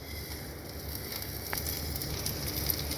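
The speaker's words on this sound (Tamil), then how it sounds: "நம்ம உளுத்தம் பருப்பை நல்லா ஃப்ரை பண்ணிவிட்டு அது கூட நாலு காஞ்ச மிளகா" Urad dal and dried red chillies fry in a pan over a medium-low flame for thengai thuvayal, giving a steady close hiss and sizzle with light crackles throughout, no voices.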